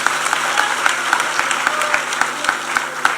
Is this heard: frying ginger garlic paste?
no